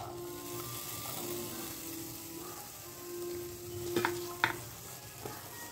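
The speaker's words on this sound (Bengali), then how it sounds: "দু 3 মিনিট ফ্রাই করব আমরা মিডিয়াম ফ্লেমে।" Chopped carrots, beans and capsicum fry in a pan over a medium flame, giving a soft, steady sizzle throughout. A few sharp stirring scrapes and clinks stand out near the end.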